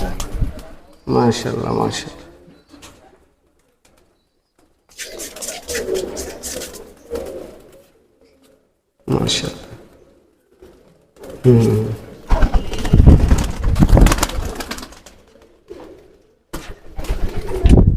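Dabwala pigeons coo in low, repeated bursts scattered through the span, mixed with frequent nearby talking.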